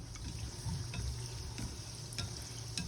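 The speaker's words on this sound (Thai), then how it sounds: "เราก็จะทอดไปจนขนมของเขามันสุกดีเลยจ้า" Thai-Lao laughing snack dough deep-frying in a pot of hot oil, a dense, steady sizzle and crackle with occasional stirring scrapes, close and continuous.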